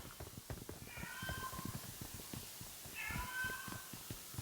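In-game cat meows in PUBG, two drawn-out meows around one and three seconds, moderately loud over a steady bed of clicky game ambience and footsteps.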